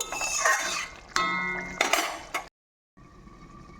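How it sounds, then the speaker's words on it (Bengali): A lid comes off a cooking pot of Bengali chana dal and potato curry with several sharp metallic clinks and clatters close by. A short silence follows, then a faint, quiet ringing hum. "কিছুক্ষণ পর আমি ঢাকনাটাকে খুলে নেব"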